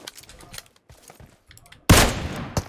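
Gunfire in PUBG Mobile, a loud sudden burst of shots near the end after quieter game noise and light movement sounds, then a second shorter crack.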